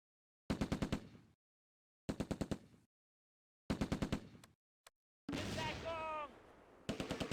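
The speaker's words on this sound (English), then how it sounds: "The tanks switch fire to the infantry near the farmhouse." Tank machine guns fire in the World War II game Close Combat A Bridge Too Far, near Groesbeek, in several separate rapid bursts, with one longer mixed burst of fire and a whistling tone near the end, loud and close.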